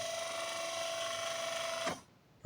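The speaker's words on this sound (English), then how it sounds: "Okay, that noise was the starter." The starter motor of an Alfa Romeo 33 1.5 ie with a non-starting engine cranks slowly, giving a steady, close mechanical whine for about two seconds before cutting off abruptly.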